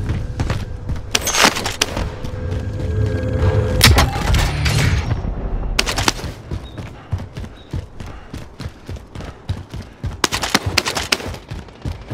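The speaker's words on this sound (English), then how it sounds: "Receiving hostile fire" Gunfire in Call of Duty: Warzone on Rebirth Island comes as sharp, booming bursts and rapid volleys, loud and close, separated by quieter stretches of thumps and footsteps.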